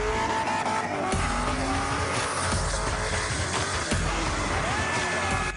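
Cars doing donuts on an industrial-area street: loud, continuous engine roar with long, wavering tire squeals and skids, heard close and without speech.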